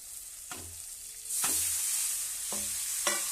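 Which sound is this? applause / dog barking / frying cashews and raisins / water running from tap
frying cashews and raisins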